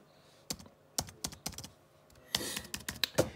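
Laptop keyboard keys tapped in short bursts while typing an accented letter, a dozen or so crisp clicks alone, close and fairly loud, with a quick flurry near the end.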